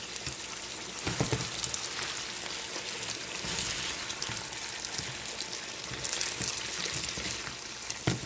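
Steady crackling sizzle of sauce frying in a hot pan, with scattered pops and spits throughout, close up.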